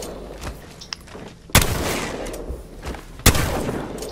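Two sharp, loud gunshot blasts from a video game firefight, each followed by a rumbling decay, separated by a couple of seconds over quieter background combat noise.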